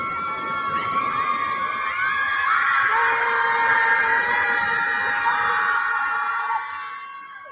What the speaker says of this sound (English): a bunch of libs got together for a primal scream ritual, releasing their anger by screaming at Lake Michigan